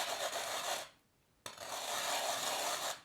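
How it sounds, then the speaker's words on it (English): A muller grinds wet black coal pigment into paste on a hard surface, a close gritty rasping scrape in two long passes separated by a brief pause. "we're going to start grinding this down into a very, very fine paste"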